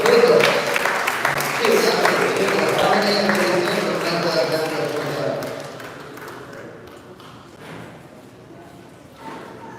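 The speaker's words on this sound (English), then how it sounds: "Another round of applause for Derek Hutchinson with 2 adults." Applause for an award at a National Parents' Day ceremony, loud clapping from a crowd at first that gradually thins and fades away, with murmuring voices underneath.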